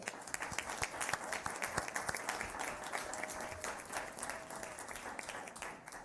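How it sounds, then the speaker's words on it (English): A round of applause in Atlanta for CJ and Kelly Stewart, steady and fairly faint, with scattered sharper claps standing out from the crowd's clapping. "CJ and Kelly, can y'all stand up for a round of applause?"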